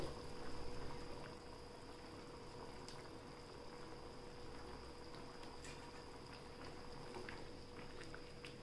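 Curd and potato gravy simmers and bubbles steadily in a pot, a soft, continuous boiling hiss with faint pops throughout, quiet and unbroken by voices.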